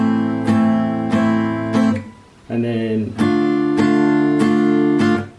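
Guitar chords from the BTS Pied Piper pre-chorus are struck one at a time, each left to ring before the next. A brief spoken phrase cuts in midway, then the regular strums return, loud and close.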